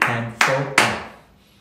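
Three sharp hand claps in an even beat, close and loud, each ringing briefly before the last fades into quiet.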